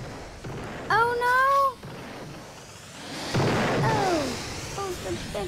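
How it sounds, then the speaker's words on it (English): A big explosion in a team-based video game gives a broad, rumbling blast partway through, mixed with excited vocal exclamations and in-game sound. "Oh, it's a big explosion."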